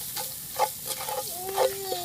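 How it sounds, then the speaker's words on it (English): Onions fry in a Dutch oven while being stirred, a soft sizzle broken by short scraping and clinking strokes, close and fairly quiet. "You smell those onions cooking"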